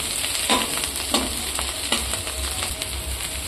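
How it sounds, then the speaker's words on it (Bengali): Softened onions frying in a pan for an egg dish are gently stirred, with a steady sizzle throughout and a few soft scrapes of the spoon against the pan, close by and moderately loud. "এইবার একটু হালকা হাতে নাড়াচাড়া করতে থাকবে এখানে দেখতে আমার পেঁয়াজারে কিন্তু অনেকটাই নরম হয়ে গেছে"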